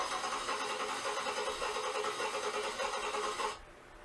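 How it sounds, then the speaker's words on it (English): A car engine running unevenly and misfiring, heard close as a steady, rough drone that cuts off abruptly near the end, with no talking. "you hear how the engine's not consistent"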